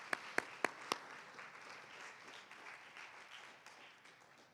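Audience at a class of 2021 graduation ceremony claps in a few sharp, distinct slaps at first, then settles into faint, scattered applause that carries on in the background.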